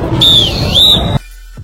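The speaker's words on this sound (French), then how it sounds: "le coup de sifflet long que l'on appelle roulant" A long, rolling referee whistle blast at a roller derby bout: one loud, warbling trill lasting about a second, heard alone and cut off sharply.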